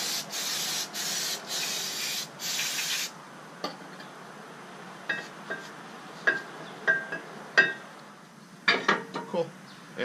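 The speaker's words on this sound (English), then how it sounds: "Brake cleaner." Brake cleaner hisses from an aerosol can in several short bursts onto the brake parts of a 2010 Camaro SS, then gives way to scattered metallic clinks and rubbing of parts, with a voice talking at times.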